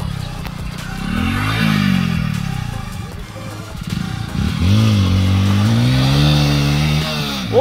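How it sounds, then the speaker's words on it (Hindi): An off-road motorcycle climbs a steep mountain slope, its engine revving hard and loud close by in repeated rising and falling surges, with a brief lull midway before it strains upward again. "तो चेक मारते हैं कि बाइक ऊपर चढ़ती है कि नहीं चढ़ती।"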